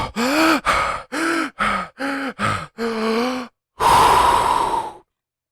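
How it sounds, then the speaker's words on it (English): A person breathes heavily and deliberately, a string of about seven loud, voiced gasping breaths in quick succession followed by a longer noisy exhale, close to the listener with no speech. "so I'm going to breathe really heavily."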